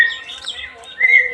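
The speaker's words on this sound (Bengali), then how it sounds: "পাখির ডাকটা উঠছে" A bird in a large garden gives a few bright, shrill chirps, the loudest closing the moment, close and clear over a quiet background.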